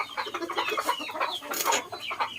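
Village chickens penned in a coop cluck nearby in a busy, overlapping stream of short calls that continues throughout.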